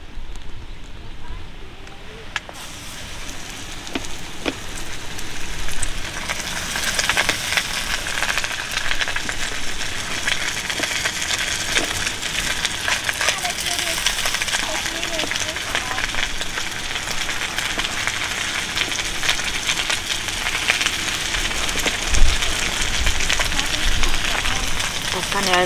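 Goby fish coated in panko breadcrumbs fry in a pan outdoors by the water, giving a steady crackling sizzle that swells as the fish go in. A person talks over the frying.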